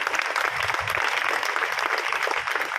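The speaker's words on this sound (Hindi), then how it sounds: "तालियां बजती रहनी चाहिए, तालियां रुकनी नहीं चाहिए।" Audience applause for the chief guest at a school health and hygiene awareness program, sustained even clapping from a crowd, close and continuous.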